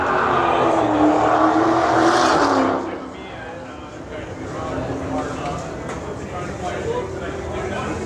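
A Mercedes-AMG GT R supercar exhaust roars loud and steady for nearly three seconds, then falls to a lower idling rumble mixed with general noise at a Las Vegas supercar track, with people talking nearby.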